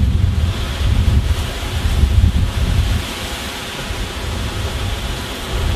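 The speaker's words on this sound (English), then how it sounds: "you could just hear the wind" Strong wind roars and buffets the microphone continuously during a wildfire in San Diego, with deep rumbling gusts that ease slightly partway through.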